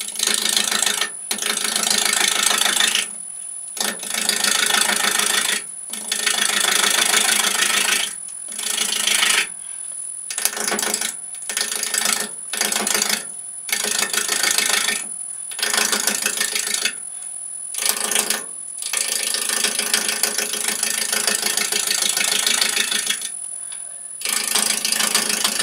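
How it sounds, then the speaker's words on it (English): A woodturning gouge cutting a wooden blank spinning on a lathe, a loud harsh rasping hiss in repeated bursts of a second or two, with short silent gaps as the tool is lifted away and set back on the wood. "it goes from a clunk clunk clunk sound, which is at the corners hitting it, to like a hissing noise"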